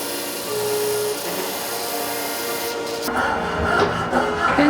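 Rhythmic rasping strokes of a hand saw cutting through wood, close up, getting rougher and louder toward the end.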